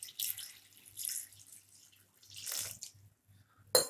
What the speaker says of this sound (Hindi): इस बॉल में भर के पानी डाल लेंगे